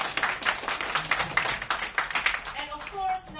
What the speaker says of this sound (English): So give him a warm applause.